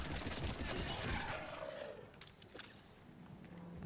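Enemy gunfire in the Mass Effect 3 video game, a dense burst of rapid shots at the start that thins out into scattered fainter cracks and echoes.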